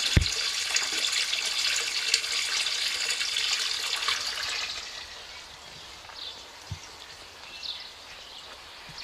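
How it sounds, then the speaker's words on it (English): A rushing, gushing stream of water pumps steadily into a Nissan Micra car, then eases to a softer trickle with scattered drips and a few knocks. "So that's just the water pumping in"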